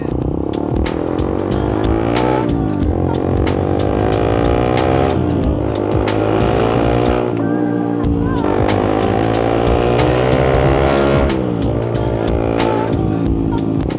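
Yamaha R3 motorcycle fitted with a Yoshimura R77 big-canister exhaust, ridden on the road, its engine rising and falling through repeated gear changes, loud and close, with a voice talking over it.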